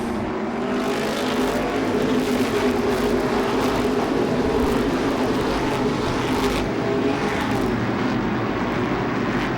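Modified race cars roaring side by side around the oval at Seekonk Speedway, a continuous loud blended engine drone with cars sweeping past, no voices.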